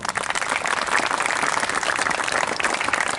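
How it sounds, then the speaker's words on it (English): An audience at a school Republic Day celebration claps steadily, a dense, even burst of applause that fills the whole moment without pause. "have a round of applause for yourself"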